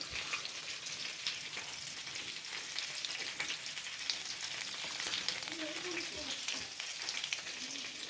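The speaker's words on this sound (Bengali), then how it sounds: "তেল গরম হয়ে গেছে আমি এর মধ্যে কালো জিরে দিয়ে দেবো" Black cumin seeds drop into hot oil in a kadai, producing a faint, continuous crackling sizzle with fine scattered pops throughout.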